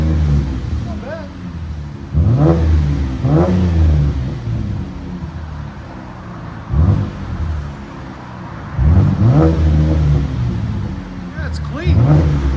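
A 2014 Cadillac XTS V-Sport with the 3.6L twin turbo V6, Paradox muffler and rear delete revs repeatedly in sharp, loud bursts that settle back to idle, with people talking between them.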